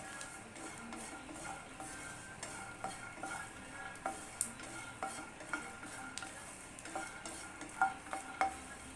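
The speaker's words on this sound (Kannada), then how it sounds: "ಇದೆಷ್ಟು ನಾವು ಗರಿ ಗರಿಯಾಗಿ ನಾವು ಫ್ರೈ ಮಾಡ್ಕೊತೀವೋ ಅಷ್ಟು ಟೇಸ್ಟ್ ಕೊಡುತ್ತೆ ಕಡಲೆ ಬೀಜ" Peanuts fry and crackle in a pan for a tomato-onion chutney, with steady sizzling under repeated scraping and clinking stirs of a utensil against the pan, and no voices.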